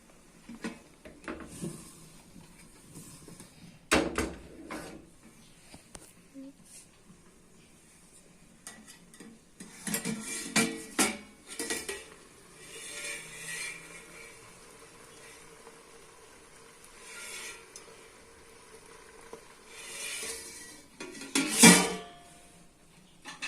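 Metal cooking pot of water chestnuts on the boil, shaken now and then, giving scattered rattling knocks and clatters over a quiet simmering background, with one louder jolt near the end.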